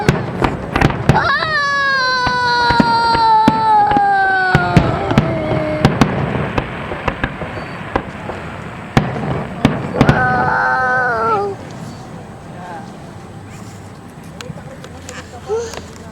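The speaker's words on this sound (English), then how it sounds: "Oh, there's the fireworks." Canada Day fireworks bursting in a series of sharp cracks and booms, with whistling rising shells and crackle, someone talking excitedly between the blasts.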